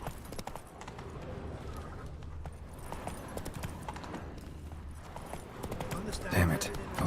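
A horse gallops in The Witcher 3 video game, its hooves beating a quick, steady clip-clop rhythm under game ambience, with a louder snort or whinny near the end.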